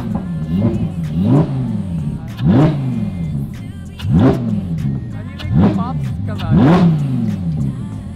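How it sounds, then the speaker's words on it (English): A car engine revs repeatedly through the stock exhaust, climbing and dropping in about six loud, rhythmic bursts, close by, with talk mixed in, on a street in Frankfurt, Germany. "The stock exhaust is so loud already."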